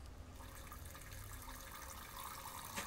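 A video game character urinating in the Fears to Fathom Ironbark Lookout game, a faint steady trickle of liquid splashing into water under low ambient noise, continuous for a few seconds with no talk.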